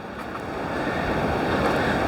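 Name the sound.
water flowing at Bells Rapids river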